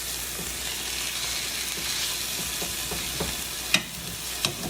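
Steak au poivre frying in a pan, a steady moderate sizzle and crackle throughout with a couple of sharp clinks near the end as the steak is turned, no voices.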